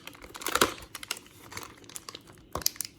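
Paper packaging being ripped and crinkled away from an LOL OMG Queens Sways doll box, with two faint, brief crackling bursts over quiet room tone.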